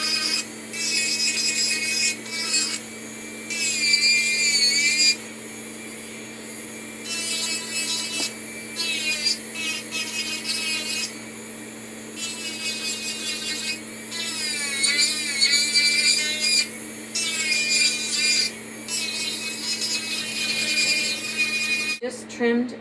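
A rotary power tool trims rough edges off a custom dental impression tray, whining in repeated high-pitched bursts with short pauses between passes, close and fairly loud against a low background hum.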